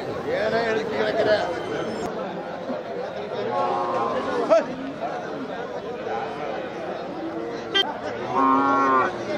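Kangayam cattle low and moo at a busy cattle market in Punjai Puliampatti, the calls rising over constant crowd chatter and nearby voices.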